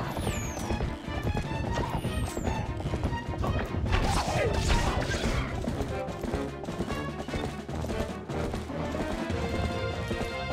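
Horse hooves clip-clop in The Legend of Zelda: Twilight Princess HD, a busy run of loud thuds and clatters mixed with crashes, game music and other effects across the whole stretch.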